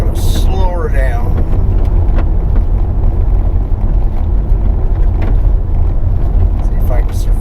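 A car rolls along a gravel road with a steady, loud rumble of tires and wind that runs unbroken throughout, with no talk over it.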